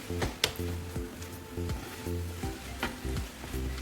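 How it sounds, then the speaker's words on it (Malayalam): Cowpeas cooked with jaggery, grated coconut, cardamom and cumin powder being stirred in a pan, giving a soft sizzle with repeated spoon scrapes and clacks in a loose rhythm, close by. "നന്നായിട്ട് മിക്സ് ചെയ്യാം"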